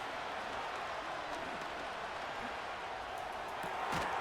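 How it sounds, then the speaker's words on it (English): Stadium crowd roar from a Madden 25 football video game, a dense steady wash of cheering and murmur lasting throughout, fairly loud with no distinct voices. "The crowd is loud."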